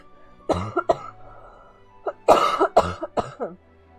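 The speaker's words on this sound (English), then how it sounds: "It's just me coughing, I swear." A person coughs close to the microphone in two clusters, a pair of sharp bursts followed after a pause by a longer run of harsh, rapid coughs.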